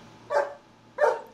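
A dog gives two short, sharp barks about half a second apart, close and fairly loud against a quiet background.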